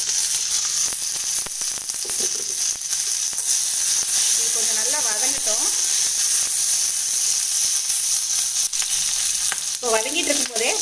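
Shallots, curry leaves, tomato and tamarind sauté in hot oil in a pan, giving a steady close sizzle and hiss with occasional scrapes of a stirring spoon. A voice speaks briefly over the frying at moments.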